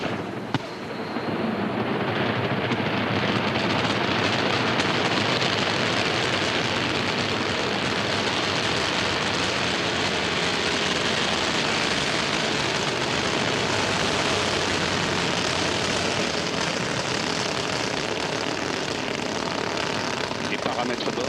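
An Ariane 5 rocket at liftoff after Vulcain engine and solid booster ignition, with a sustained, broadband roar that stays loud and steady for about twenty seconds.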